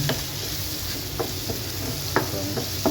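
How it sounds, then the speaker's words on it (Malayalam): Onions and curry leaves sauté in oil with a little salt, a steady hot sizzle marked by a few brief scraping stirs, close and unaccompanied by speech. "ഞാൻ എണ്ണ ഒഴിച്ച് ഉള്ളിയിട്ട് ഉള്ളി കറിവേപ്പിലയിട്ട് ഇത് നന്നായിട്ട് വരണ്ട് വന്ന"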